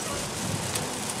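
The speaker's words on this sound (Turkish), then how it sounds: "Daha yağmur böyle akşama kadar devam eder galiba" Rain falls steadily during a long car journey, a dense, even hiss that holds throughout with no voices heard.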